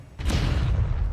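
Levioso spell cast in the Hogwarts Legacy video game: a sudden loud, low, booming magical burst with a bright whooshing crack at its onset, sustained briefly and close up.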